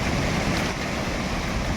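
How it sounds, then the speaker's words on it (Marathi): A village stream rushes with fresh monsoon rainwater pouring down from the cliffs above, a steady broadband roar of flowing water close to the microphone, continuous and without a break, with some wind buffeting. "हा हिऱ्याचा ओढा आहे आपला."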